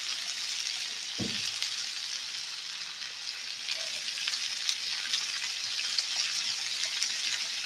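Garlic sizzles and fries steadily in a hot pan over a campfire-style cooking setup, a continuous loud crackling hiss with one brief knock near the start.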